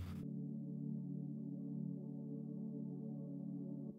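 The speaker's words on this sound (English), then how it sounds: "Layered underneath these chords, we have this intro pad sound" A subtle, quiet synth pad from a tweaked Ableton preset, used under the chords in a future bass intro: a soft, warm, low sustained tone holding steadily for four seconds after a brief bright onset, with no voices.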